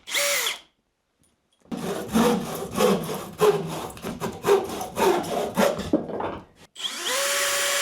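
A piece of wooden board for a modular bed frame being trimmed with a saw in a tiny off-grid cabin in Alaska, producing a loud, close, rasping run of strokes for several seconds, framed by brief machine sounds before and after.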